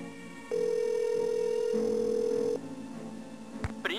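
A telephone in a Nancy Drew mystery game gives a steady electronic tone that holds for about two seconds, shifts pitch, then cuts off before a short click and a brief rising blip.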